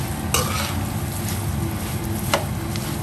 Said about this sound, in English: Mix it, again saute it for 2 minutes.